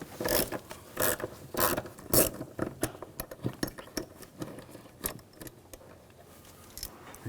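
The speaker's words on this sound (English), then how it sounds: "Now using a 5mm hex socket," A ratchet fitted with a 5mm hex socket works a screw loose on a BMW X5 3.0L inline-six starter, giving close, fast clicking runs broken by brief pauses and a few louder rasping strokes.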